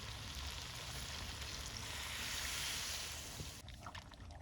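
Hot water poured into a pan of spiced chicken curry makes a loud, steady rushing sizzle that holds for several seconds and then breaks into lighter bubbling and crackling.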